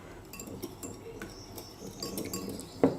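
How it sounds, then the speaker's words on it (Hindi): Egg and milk mixture for French toast beaten in a bowl, a quiet run of light clinks and taps of a utensil against the bowl, close and soft, with one louder knock at the end. "इसको अच्छे से फेंटना है।"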